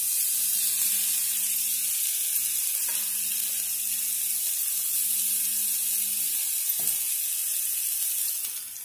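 Onions and mushrooms sizzle in a pan with a steady, dense hiss, broken by a few soft stirring knocks.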